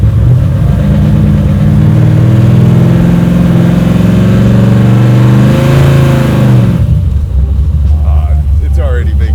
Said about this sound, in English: Yeah, this car sounds good. It sounds really good. Throaty and choppy.